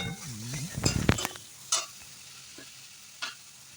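Chopped tomatoes drop into hot oil in a pan with a loud burst of sizzling and spoon scrapes, then a softer fry continues with a few sharp stirring clacks against the pan.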